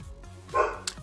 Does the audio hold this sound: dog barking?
yes